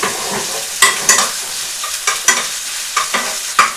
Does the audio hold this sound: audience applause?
no